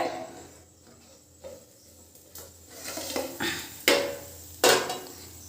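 A puffed rice snack is flipped onto a metal plate, with soft scrapes building to two sharp clanks of plate and pan close by.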